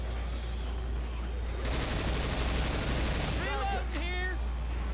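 Sustained automatic gunfire in Left 4 Dead 2, a dense rapid burst lasting nearly two seconds over constant game ambience, followed by high chirping tones.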